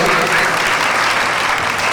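Loud, dense applause from an audience cheering a tribal folk dance troupe at Eklavya Model School, Kawant, filling the whole moment as a steady wash of many hands clapping at once.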